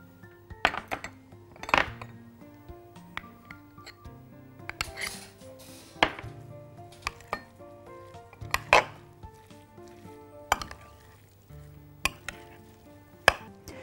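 Potatoes being mashed in a tray for baked kumpir, heard as repeated irregular clanks and knocks of a masher against the metal tray with soft squishing between, close and without talk.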